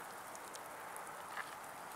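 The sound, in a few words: light rain falling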